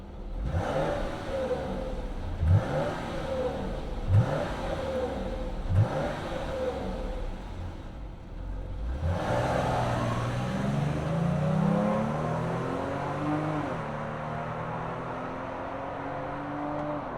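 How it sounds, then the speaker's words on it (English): A 2024 Jeep Grand Cherokee L Summit with a naturally aspirated V6 gives four short, sharp revs, then starts and settles into a steady idle with a rising whir, loud and close. "We got a naturally aspirated V6. Let's fire it up and hear what it sounds like."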